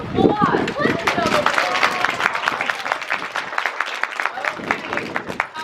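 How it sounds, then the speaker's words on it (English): A crowd claps for a pair of performing elephants, a lively burst of many hands that stays full and close throughout, with some talk and murmuring near the start and again toward the end. "give these ladies a round of applause"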